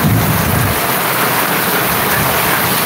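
Heavy rain pouring down steadily in a continuous loud hiss, close and dense throughout, with a low rumble in the first moments, during a downpour outside a shop as water starts coming in.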